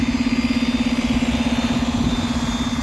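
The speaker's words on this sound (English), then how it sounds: "We're going to be walking right by this bus." A bus engine idling right beside the listener, a loud, close, steady pulsing throb with a strong regular low chug and constant vibration, with no talk.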